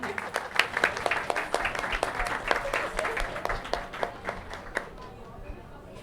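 An audience at a book launch event applauds the translators, with a fairly faint, dense patter of individual claps that thins out and fades near the end.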